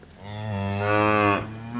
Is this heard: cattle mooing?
yes